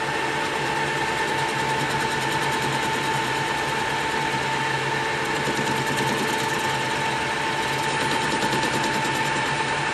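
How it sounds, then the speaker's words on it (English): A lathe facing a set of mini big-end bearings so they fit an Imp connecting rod, giving a steady, continuous machining whine with a dense rough texture that holds unbroken and loud for the whole stretch. "I'm just chewing a set of mini ones up on the lathe"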